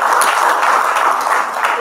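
Audience applause for a speaker at a robotics technology event, a dense, even wash of clapping from a crowd sustained for a couple of seconds.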